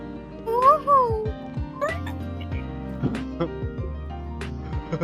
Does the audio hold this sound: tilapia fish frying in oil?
no